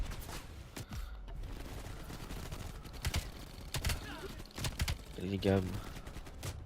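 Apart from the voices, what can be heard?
gunfire in Call of Duty Black Ops video game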